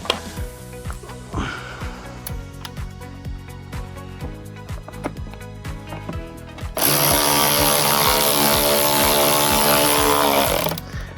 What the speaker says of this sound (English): If you have a powerful tool like this, you just need to kind of drive it down to it